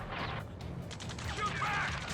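Gunfire in the video game Ace Combat 7, with rapid crackling bursts layered over a rumbling battlefield din, fairly loud and continuous, with shouted voices in the background.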